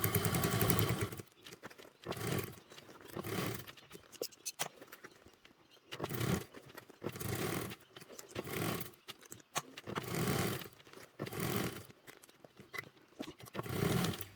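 A sewing machine stitches fabric for a crossbody bottle bag, running in repeated loud bursts of a second or so, stopping and starting between seams.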